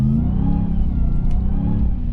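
Supercharged RAM TRX truck engine revving under light throttle, a loud, close, steady mid-pitched growl with a slight rise and fall in pitch across the whole span, no voices over it.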